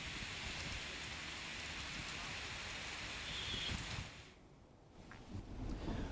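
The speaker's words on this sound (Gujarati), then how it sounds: "મેઘરાજા મન મૂકીને વરસી રહ્યા છે" Heavy monsoon rain pours down in Visavadar, Junagadh, after days of sultry heat. A loud, continuous hiss of rain dips briefly near the end before swelling again, with no clear thunder.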